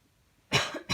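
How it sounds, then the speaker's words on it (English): A woman crocheting a golden doodle puppy toy coughs once sharply at close range, then gives a short sniff right after, both loud against a quiet room. "Gosh, I just coughed and sniffed."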